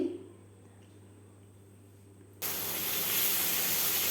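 Ridge gourd frying in a pan with a mustard, garlic and green chili paste: after a couple of seconds of quiet low hum, a loud, steady broadband sizzle starts abruptly and holds to the end.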